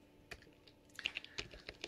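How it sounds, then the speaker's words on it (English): Quiet computer keyboard typing while entering a country name in icon-theme script software, with irregular light key clicks clustering in short bursts, faint and close, and no talking. "I'm gonna type it wrong."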